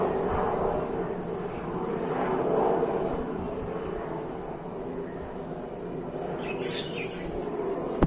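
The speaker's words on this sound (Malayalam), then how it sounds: "എവിടെയോ അതേ ഹെലികോപ്റ്റർ ഓണാണ്" A helicopter drones somewhere in the distance as a steady, faint engine rumble, with birds chirping faintly in the outdoor background.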